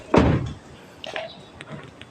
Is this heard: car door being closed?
yes